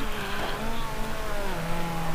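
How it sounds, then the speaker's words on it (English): BMW race cars at Magny-Cours snake through a chicane, engines droning and shifting pitch as they brake and accelerate, a steady loud motor whine throughout. "great shot of these BMWs going through that chicane"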